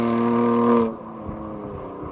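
A 700-horsepower Stage 3 BMW M4 CS engine revs hard with a loud, strong harmonic howl, then cuts off abruptly under a second in, dropping to a lower burbling, crackling idle.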